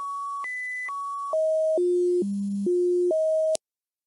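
Graphing calculator plotting a curve as a sequence of steady pure tones, like telephone keypad beeps, each held about half a second while jumping between pitches, ending in a brief click.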